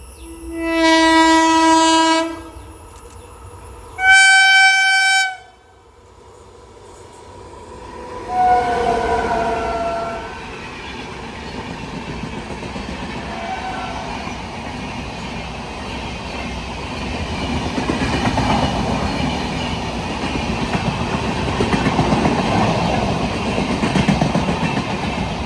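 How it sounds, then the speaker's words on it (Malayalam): A Vijayawada-bound train at Uthralikavu in Kerala sounds two loud horn blasts, then rolls past with a building rumble and rhythmic wheel clatter that swells and stays loud to the end. "വിജയവാഡയുടെ P7 ഇപ്പോൾ പോയത്"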